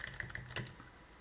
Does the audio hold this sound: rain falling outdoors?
no